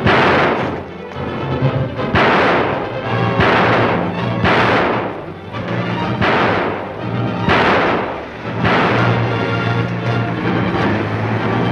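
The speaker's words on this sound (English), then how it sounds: "Ted, maybe I shot him." Gunshots in an old mystery film, a series of loud, sharp cracks about every second or so, each with a booming tail that rings through a dense, busy scene.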